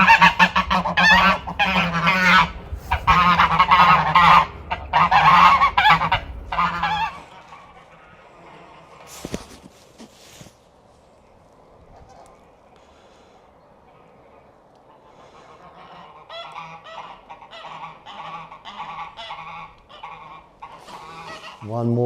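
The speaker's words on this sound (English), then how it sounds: "the geese are really, really loud. I actually enjoy them making all the noise." Loud, rapid goose honking from homestead geese fills the first seven seconds, then stops, leaving quieter scattered bird calls and faint background noise.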